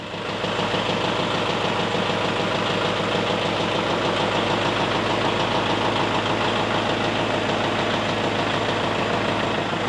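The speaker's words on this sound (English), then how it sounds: "Hopefully the tractor drives right up this and sits on top of it." A farm tractor engine runs steadily and loudly up close while driving up onto a ramp, a continuous low knocking diesel rumble with vibration and no talk.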